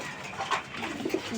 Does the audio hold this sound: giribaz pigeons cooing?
yes